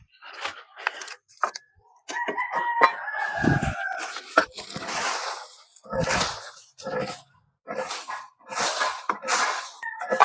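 Chickens and a rooster at a rural vegetable garden where pechay is planted. Bursts of clucking and a crowing call come close and fairly loud, broken by short pauses.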